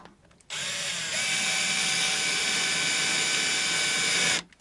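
A power drill driving locator screws into a vintage V6 guitar, a loud close whirring whine that starts abruptly, steps up in pitch after a moment, runs steadily for about four seconds, then cuts off.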